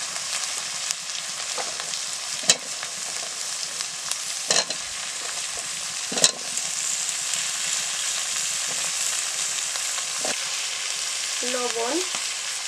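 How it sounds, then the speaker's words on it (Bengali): Kola kochu (taro) pieces fry in a spice mix with a steady close sizzle, broken by several sharp stirring scrapes and clatters against the pan. "এই মশলার সঙ্গে ভেজে নিচ্ছি এবারে আমি কলা কচুগুলো দিয়ে দিচ্ছি"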